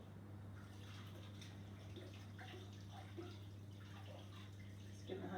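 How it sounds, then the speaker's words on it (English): Hands are washed under a running tap, a steady close stream of water splashing and dripping over a faint low hum, with no voices. "just give my hands a quick wash so I can go on to the next stage"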